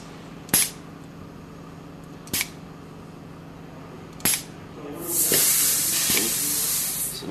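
A spray proportioner pump going into recharge: three sharp clicks spaced a couple of seconds apart, then a loud, steady hiss of air and fluid lasting a few seconds, close and with no voices.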